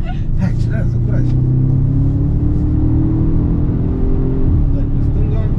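Audi RS4 accelerating hard on a race circuit, a loud continuous engine drone with rising tones filling the whole stretch, while people talk over it.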